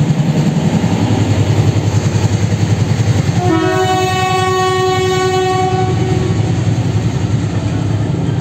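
A steam train rumbles across Sri Lanka's Nine Arches Bridge in Ella with rhythmic clatter, and a loud multi-tone horn blasts for a couple of seconds midway before fading back into the steady rolling noise.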